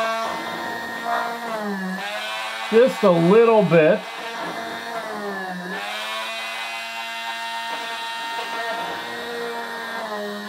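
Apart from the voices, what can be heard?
cordless Dremel drilling pilot holes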